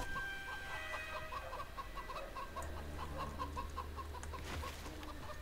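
A chicken clucks repeatedly in Hunted: The Demon's Forge. The soft, rapid clucks sit over a low, steady ambient background, with a lower hum joining partway through.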